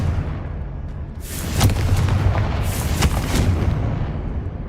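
A Confringo blasting spell from Hogwarts Legacy sets off a rumbling explosion, with two sharp, booming bursts about a second and a half apart over a continuous low roar, loud and close.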